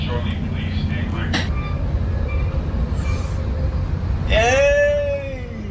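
Rumbling interior of a moving northbound passenger train, steady low roar throughout with a sharp rising wheel squeal near the end, people talking over it.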